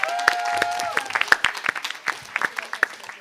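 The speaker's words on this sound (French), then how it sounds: "On les applaudit bien fort." A crowd claps steadily, a dense patter of applause with a few sharper claps standing out, under a fading tone.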